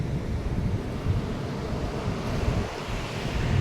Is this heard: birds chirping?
no